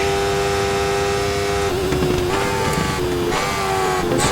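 Race car engine droning steadily with shifting pitch during qualifying laps at the Brands Hatch short circuit in the TOCA 3 video game, a Renault Clio or GT Lights car, loud and continuous with gear changes and revs.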